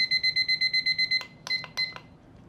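A kitchen timer beeps rapidly and steadily in a fast, high-pitched electronic pattern, then gives a few separate clicks and short chirps as it is handled and switched off, close by in a quiet room.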